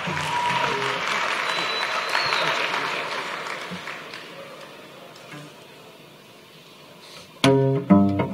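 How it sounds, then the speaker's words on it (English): An audience at a school talent show gives a sustained round of applause that gradually fades, then a performer's loud, sharp musical notes cut in at the end. "Give him a round of applause,"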